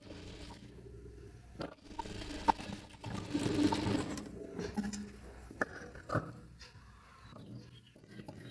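Sewing machine stitching saree fabric into an umbrella dress: a soft mechanical whir runs in short bursts with light scraping and handling noises between them, close by but fairly quiet, with no speech.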